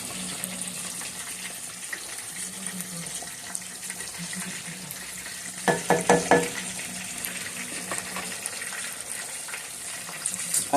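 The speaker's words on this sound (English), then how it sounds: "Gave it a little time to fry there." Battered fish and shrimp frying in hot oil make a steady, soft crackling hiss throughout, with a brief cluster of louder clatter and bubbling midway.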